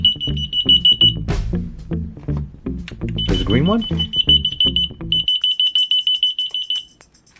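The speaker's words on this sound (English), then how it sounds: "when you press a button on the transmitter, the corresponding receiver will sound." A key finder receiver sounds a shrill, rapidly pulsing electronic beeping repeatedly in bursts, loud and close, while a person speaks briefly over it.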